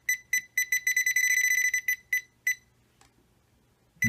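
A Deteknix XPointer dual-power wader pinpointer sounds a rapid burst of high electronic beeps that run together into a steady tone as it detects gold, then taper into a few separate beeps. Close and clear, with no talking.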